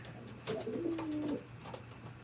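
Pigeons coo in a loft, one soft, low rolling coo lasting about a second over a quiet room hum, close and fairly faint.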